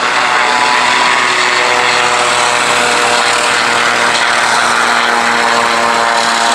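A short takeoff and landing display aircraft performing at a Lincolnshire airshow, its engine and propeller droning loud and steady for the whole stretch.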